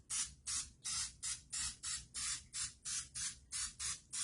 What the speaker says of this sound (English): I'm going to spray each one of these cavities with a little bit of Pam.